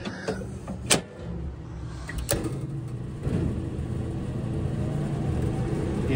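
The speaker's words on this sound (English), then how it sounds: "The inducer is spinning" The inducer motor of a Tempstar package unit furnace hums steadily at close range, a continuous low whir that grows slightly louder, punctuated early by a couple of sharp clicks or knocks.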